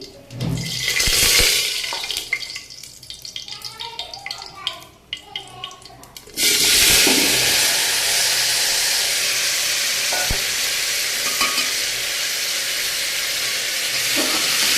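Vegetables frying and being stirred in hot oil tempered with panch phoron for a vegetarian khichuri: a loud, steady sizzle fills the second half after a quieter stretch with soft clatter and faint voice-like traces early on.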